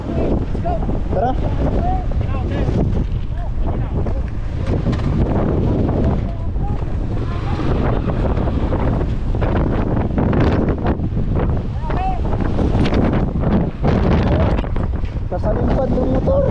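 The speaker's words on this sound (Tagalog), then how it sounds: "Nagwawala ang hangin dito." Strong wind buffets the microphone on a windy outing with a motorbike, producing constant loud low rumble and gusty roar throughout, with occasional voices speaking underneath.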